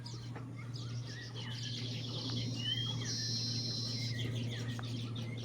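Weaver birds chirping and twittering at their hanging nests on coconut palm leaves, a busy mix of high calls over a steady low hum and faint insect buzz.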